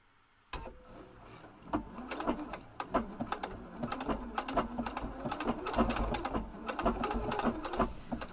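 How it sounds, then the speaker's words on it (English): A sewing machine fitted with an open toe foot stitches in short bursts, its rapid mechanical clatter starting and stopping several times, fairly close and steady, with no talking over it. "So if I start to sew"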